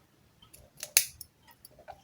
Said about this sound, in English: Then I have my Kuromi comb, foldable comb. Then this is a foldable scissors,